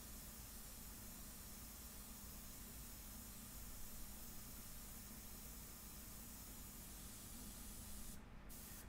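An airbrush sprays in an even, unbroken hiss for the whole stretch, with a little moisture left inside from cleaning. The sound is close, fairly quiet and steady, with no voices.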